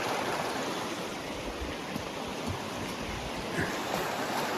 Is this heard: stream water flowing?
yes